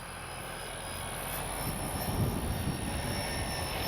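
The engine of an Arrows P-51D Mustang 850mm RC model plane drones steadily as it flies in windy conditions, rising gently in loudness, with broad wind noise over it.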